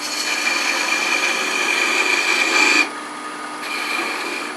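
A 3/8 inch detail gouge cuts a wooden globe ornament spinning on a lathe, giving a continuous close scraping hiss over the motor's whine, which briefly drops in intensity as the tool eases off before resuming.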